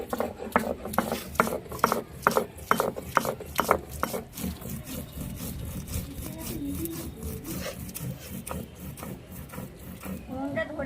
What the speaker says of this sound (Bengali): কাঁচা লঙ্কা শুকনো লঙ্কা আর জিরে একসঙ্গে বেটে নেব